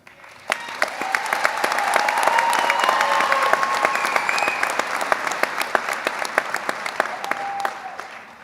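An audience at the Hidden Lake High School 2024 graduation ceremony breaks into sustained clapping that builds quickly, holds for several seconds with a few voices over it, then tapers off.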